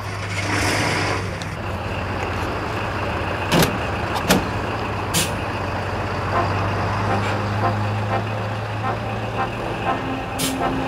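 A truck pulling away in a late-1960s West German setting, steady engine drone with a low hum, a few clunks and brief hissing bursts layered over the running motor.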